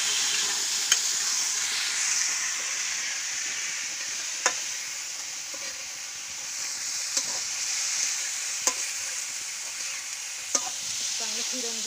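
Soaked mung beans fry in a pan with a steady close sizzle, broken by occasional sharp scrapes and taps as a utensil stirs them.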